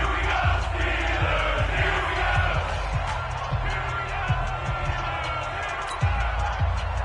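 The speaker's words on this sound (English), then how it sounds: "the crowd getting into it as we come up on a big 3rd down" A simulated stadium crowd in a PS4 football video game roars steadily ahead of a big third down, a dense continuous wall of cheering and noise with thumping low hits throughout.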